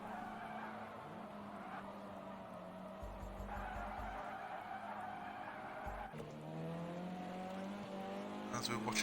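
Formula C race car at Donnington in a sim racing game spins doughnuts, with tyres skidding and the engine droning under a commentator's continuous talk.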